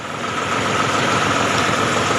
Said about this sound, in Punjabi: ਟਰੈਕਟਰ ਆਪਾਂ ਨੇ ਲਿਆ ਸਟਾਰਟ ਕਰ